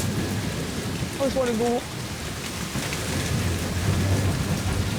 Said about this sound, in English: It's just constantly fucking raining.